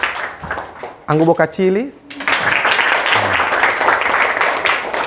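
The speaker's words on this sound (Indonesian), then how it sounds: "Coba bagaimana bah tepuk tangan?" Classroom students clap their hands together in a game, a voice speaking briefly before a sudden burst of many close hands clapping rapidly that continues to the end.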